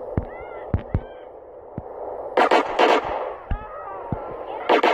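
Gunshots from Grand Theft Auto San Andreas ring out as sharp separate cracks, several single shots and a few short clusters spaced irregularly over steady background game noise.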